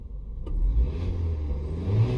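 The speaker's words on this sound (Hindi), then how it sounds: "आवाज आई ना, इंजन की आवाज आई।" A car engine revving up as the accelerator is pressed, a close low rumbling roar that swells suddenly after a brief quiet moment and holds steady, no talking.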